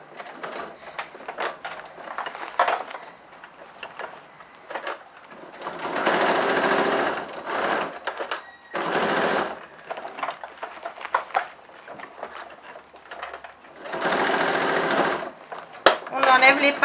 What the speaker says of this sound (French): Je vais doucement, je fais tourner au fur et à mesure mon tissu et je suis donc la couture existante.